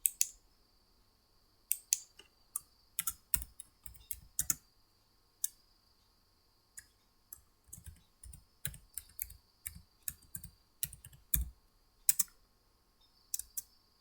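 Typing on a computer keyboard comes in irregular bursts of quiet, close key clicks separated by short pauses, faint and alone with no talk.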